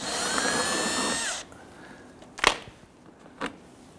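Power drill backing out 5/16 screws from the bottom of a 2011-2019 Ford Explorer during front ABS sensor replacement, a short steady whir that stops, followed by two sharp clicks of handling.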